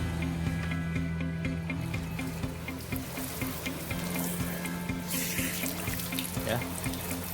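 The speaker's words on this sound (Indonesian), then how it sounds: "Kita siram dulu dengan air" Water splashes and pours steadily while rinsing grime off a surface, a continuous close hiss with a low hum running underneath and a brief brighter gush near the end.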